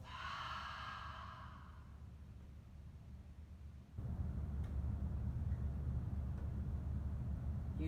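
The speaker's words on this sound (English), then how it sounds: "Take a nice deep breath in. And exhale through your mouth." A deep breath drawn in and released through the mouth during a relaxation class, a soft airy exhale fading out, followed by a low steady background rumble.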